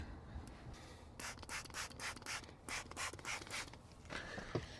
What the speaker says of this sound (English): Now I'm gonna go around the whole entire thing with a razor blade and just get all that glue off.